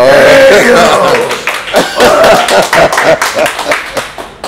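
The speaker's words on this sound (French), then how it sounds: "On peut applaudir là-bas, s'il vous plaît." Applause breaks out at a gathering, a burst of clapping that starts loud and then thins into scattered claps, mixed with voices and crowd murmur.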